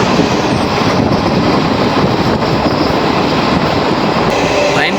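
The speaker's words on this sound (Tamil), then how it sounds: "ட்ரெயின் பார்த்தீங்கன்னா செம ஸ்பீடாக போயிட்டுருக்குது ட்ரெயின்." The Trichy to Tambaram special express train runs fast, a loud, dense, continuous roar of wheels and carriages with steady rail clatter and a faint squeal near the end.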